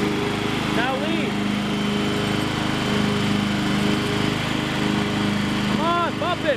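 A lawn mower engine runs loudly and continuously nearby, with a steady buzzing drone and occasional shifts in pitch as it labors, while a person talks over it.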